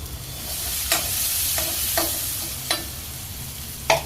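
Chopped bottle gourd and green chillies sauté in a pan, with a steady soft sizzle under several distinct clicks and scrapes of a spoon stirring the vegetables.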